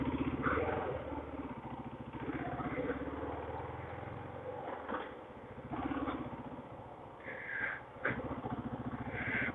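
A 2005 Kawasaki KLR 650 motorcycle engine runs steadily while riding in first gear, a continuous low throbbing drone with slight rises and dips in revs, close and moderately loud, with no talking.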